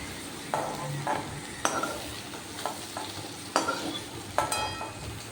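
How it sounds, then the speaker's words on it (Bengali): Potato pieces frying in oil in a pan for a curry, a steady close sizzle broken by several sharp scraping stirs of a spatula at irregular intervals. "দেখুন খুব সুন্দর লাল লাল হয়ে ভাজাও হয়ে গেছে আর সিদ্ধও হয়ে গেছে এবার এই ভাজা আলুটা তুলে নেব"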